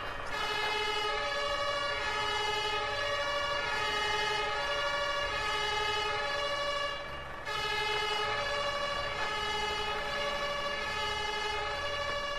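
A British-style two-tone fire truck siren in the Firefighters The Simulation video game, loud and close, alternating pitches continuously with a momentary dip midway and no talk over it.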